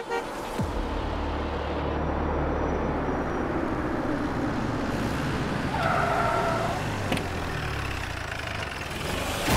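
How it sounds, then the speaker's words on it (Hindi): A car rolls up and idles under a steady low engine hum, with a brief tire squeal near the middle, moderately close against faint background noise. "ये तो जगताप की गाड़ी है।"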